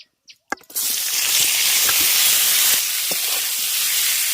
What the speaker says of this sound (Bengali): ওই তেলের মধ্যে সেদ্ধ করে রাখা এঁচড়টাকে একটু ভেজে নেব